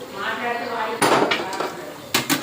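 A metal cooking bowl being stirred with a little water added, giving a few sharp metallic scrapes and clanks, the strongest at about one second and near the end, after some quiet talk at the start.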